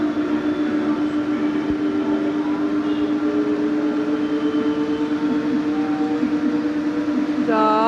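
A ropeway cable car climbs uphill with its power raised, giving a steady droning mechanical hum with a strong sustained tone, running continuously and fairly loud, joined near the end by a brief higher whine.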